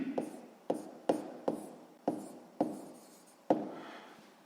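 A pen or pencil writing out a sixth-grade math ratio exercise on paper: about seven short, crisp strokes at uneven intervals, each fading quickly, close and fairly quiet with no talking.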